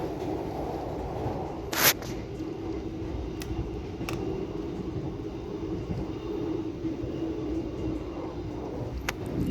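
Inside an economy-class carriage of the KA Tawang Jaya Premium passenger train, a steady low rumble and rolling drone continue throughout, with a few faint clicks and one brief rattle.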